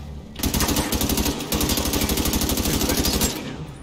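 Rapid automatic gunfire from the video game The Division 2, a loud steady stream of evenly spaced shots lasting about three seconds before cutting off.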